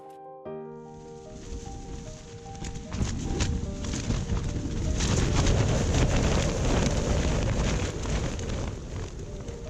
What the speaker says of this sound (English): the tent pole snapped under a strong gust of wind